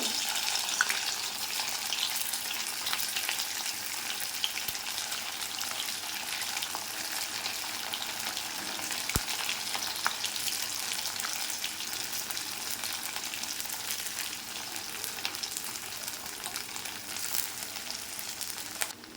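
Pieces frying in hot oil in a wok crackle and sizzle steadily and close up for the whole stretch, with no voices.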